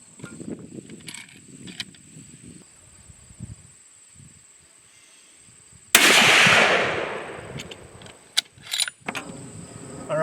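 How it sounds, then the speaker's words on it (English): A single sharp rifle shot at a long range shooting session with factory ammunition, cracking loudly and decaying, after quiet outdoor ambience with insects and faint talk. "We're going to shoot the gun."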